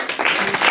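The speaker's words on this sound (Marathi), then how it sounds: "रमाईसाठी सगळ्यांनी टाळ्या वाजवा." A school literary gathering's audience claps for Ramai, a brief burst of applause that swells and stays fairly loud throughout.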